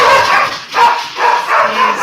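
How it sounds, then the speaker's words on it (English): Two dogs barking in a run of repeated bow-wow barks and yips, roughly four bursts in quick rhythm, loud and close with no talk over them. "I am in lockdown with two very lovely dogs that like to bark a lot"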